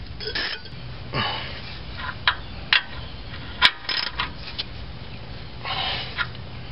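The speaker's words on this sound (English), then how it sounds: "So now we'll crank down on that nut on the bottom." A ratchet wrench cranks down the lower ball joint nut on an independent-front-suspension Toyota truck, with a few separate bursts of clicking and one sharp metallic knock, close up in a quiet garage with no talk.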